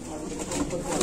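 A pigeon of an old breed coos softly in a loft, brief and close, under a background murmur.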